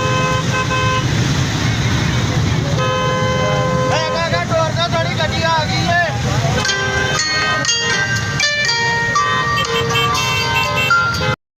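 Train horn blaring at a level crossing with the gate left open, vehicles and motorcycles honking around it; loud, dense layered horn tones throughout, with a voice briefly heard under the din.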